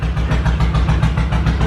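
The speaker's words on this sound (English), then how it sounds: "I've never been able to turn the idle down that low" A car engine idling unusually low, a loud close rumble with a steady, choppy pulsing rhythm throughout.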